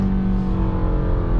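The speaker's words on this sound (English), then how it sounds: "that might have been a GT 500 Mustang that way." A Ford Mustang GT500 V8 engine rumbles loud and steady nearby, a deep continuous drone with a low hum heard from inside a moving car, with no talking.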